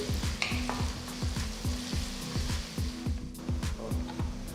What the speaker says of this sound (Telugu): ఇందులో చిన్నగా తరిగిన మూడు ఉల్లిపాయలు కూడా వేస్తున్నాను వీటిని కనీసం ఐదు నిమిషాలు వేయించాలి